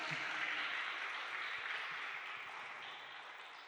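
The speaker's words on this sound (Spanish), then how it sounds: "Dale un aplauso al Señor porque Él es grande." Steady, sustained applause from a church congregation during a worship service, a dense wash of clapping that holds for several seconds and gradually softens.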